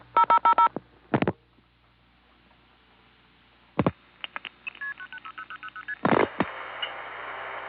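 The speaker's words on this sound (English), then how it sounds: "You can then hear White Plains MFing over a 2600 controlled trunk" Multi-frequency telephone signaling tones pass over a 2600-controlled trunk from White Plains Tandem to the Warwick exchange on 1976-era crossbar equipment: short clustered tone bursts, louder thumping clicks, then a quick train of MF digit beeps over line hum.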